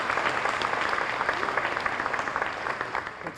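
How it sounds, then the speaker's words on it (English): A banquet crowd at a teen awards dinner gives a round of applause for culinary students, with dense, steady clapping from many hands filling the room for a few seconds before slowly thinning. "How about a round of applause for them for this meal we're about to receive?"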